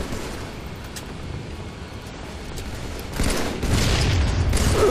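A grenade explodes in a video game, with rumbling bursts of blast noise rising late in the clip over dense, noisy game sound.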